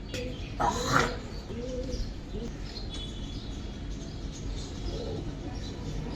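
Double-puti red Giribaz pigeons coo softly at a pigeon farm, with low, fairly distant calls and a few faint chirps over steady background noise.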